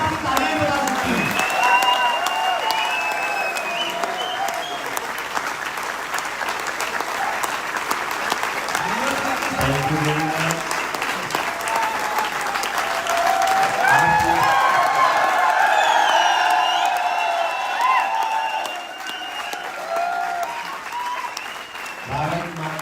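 Audience applause and cheering for a Lok Sabha MP at a network marketing event, sustained clapping from a large crowd filling the hall, swelling and dipping over about twenty seconds with brief pauses.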